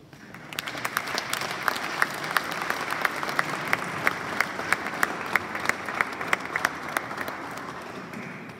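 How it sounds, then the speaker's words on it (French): Crowd applause at a funeral, a steady wash of many hands clapping with a few sharp, distinct claps standing out in a regular beat, holding moderately loud throughout and easing off slightly at the end. "Je vous demande de vous mettre et d'applaudir notre cher Oscar."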